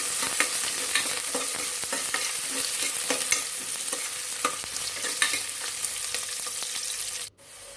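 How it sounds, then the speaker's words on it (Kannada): Chopped onions fry toward golden brown in hot oil for a mutton curry, a steady loud sizzle with scattered stirring scrapes throughout, cutting out briefly near the end before the sizzle resumes. "ಸ್ವಲ್ಪ ಗೋಲ್ಡನ್ ಬ್ರೌನ್ ಬಂದರೆ ಈರುಳ್ಳಿ ಟೇಸ್ಟು ಚೆನ್ನಾಗಿರುತ್ತೆ ಸಾರಿಗೆ ಹಾಗಾಗಿ ಸ್ವಲ್ಪ ಚೆನ್ನಾಗಿ ಫ್ರೈ ಮಾಡ್ಕೋಬೇಕು"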